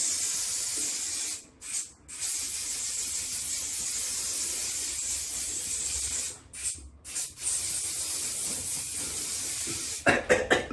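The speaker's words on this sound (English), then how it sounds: "Schwarzkopf Extra Care hairstyling spray." Schwarzkopf Extra Care hairstyling spray hisses from an aerosol can in long, loud, continuous bursts, broken by two short pauses and ending in a few quick puffs.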